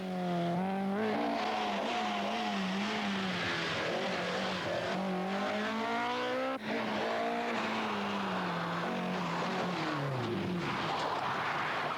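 A rally car driven hard at speed in a 1982 televised event, its engine note loud and close, rising and falling continuously with gear changes and revving through the whole stretch.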